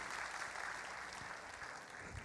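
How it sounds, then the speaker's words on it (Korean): A church congregation at a Sunday worship service claps together in steady, dense applause that fills the room at an even level. "여러분 뜨거운 축복의 박수를 부탁드리겠습니다"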